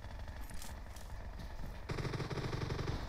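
Gunfire in the video game PUBG Mobile, a rapid rattle of automatic shots that grows louder and denser partway through, with no voices.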